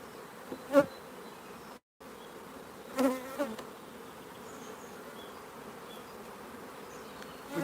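Honeybees in a nuc hive under inspection hum in a steady low buzz that runs throughout, with a few louder close passes as single bees fly near, and a brief dropout partway through.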